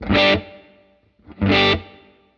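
An electric guitar played through a Line 6 Helix with room reverb, long decay and moderate mix, strikes two loud distorted chords, each ringing briefly and then fading into a reverb tail.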